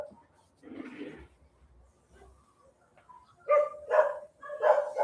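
Several dogs bark in the morning, fairly close: a short bark early on, a pause, then a louder run of three or four sharp barks near the end.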